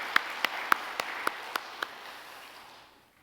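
A small church congregation claps in thanks for the musicians and violin performance at a Sunday service, giving about seven distinct claps that quickly fade into quiet room tone.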